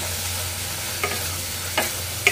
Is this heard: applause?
no